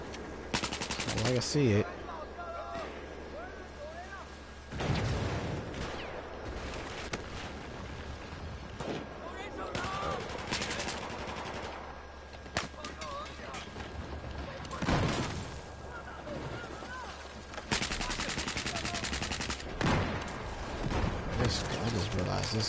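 Rapid bursts of gunfire crackle in Battlefield 4 online play, with repeated volleys and louder clusters spread across the stretch while someone talks over the shooting.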